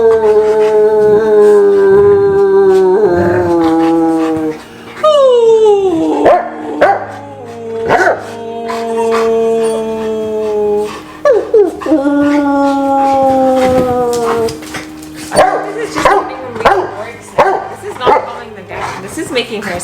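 Old English Sheepdogs howl loudly and continuously in long wavering tones, joined by people howling along, with occasional yips and barks layered in.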